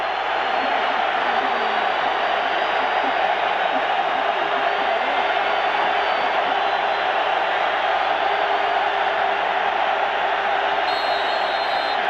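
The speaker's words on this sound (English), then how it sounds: "We'll let you listen to the crowd here for 3rd and 8." A college football stadium crowd roars on third-and-eight in a West Virginia Mountaineers versus Virginia Tech Hokies game: a dense, steady wall of loud crowd noise and cheering that holds unbroken for about twelve seconds.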